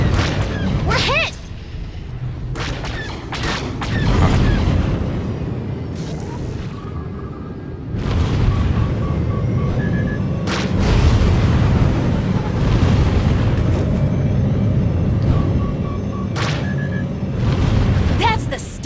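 Missile hits in a game set off deep booming explosions, a heavy rumble swelling and fading several times with sharp bursts and bright pops between them, loud and close.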